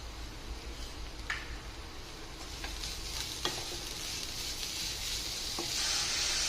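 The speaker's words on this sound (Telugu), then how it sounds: "చక్కెర మొత్తం కరిగిపోయే వరకు కలుపుకోవాలండి మంచిగా ఉడకనివ్వాలి" Grated carrot and sugar are stirred in a frying pan for sweet-shop style carrot halwa, giving a soft, steady sizzle broken by occasional clicks and scrapes of the spoon.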